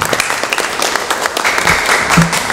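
Audience applause at a ceremony in Bali installing six city and regency Taekwondo chairs, a dense sustained clapping that swells slightly toward the end, with a brief voice near the close.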